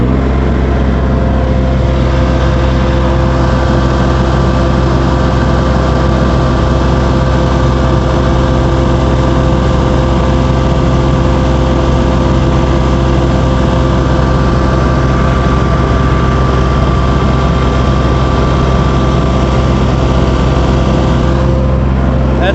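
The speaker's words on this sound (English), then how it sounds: "I'm going to go ahead and idle the machine up and check for waviness in the track." A Vermeer CTX-160 compact tracked loader's engine idling up, a loud, steady, close drone with a constant low hum that holds unbroken throughout.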